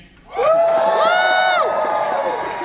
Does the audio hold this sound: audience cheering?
yes